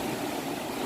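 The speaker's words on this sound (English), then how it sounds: "All the water's coming out" Water rushes out of a draining river lock in Benson, a steady close broadband gush with no voices.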